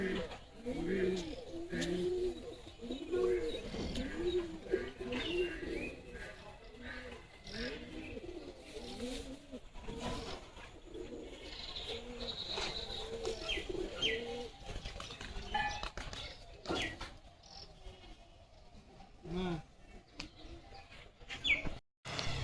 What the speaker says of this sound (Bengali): এই পাশে কৌতর পালে, কৌতরে ডাক নিছি।